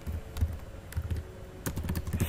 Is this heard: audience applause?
no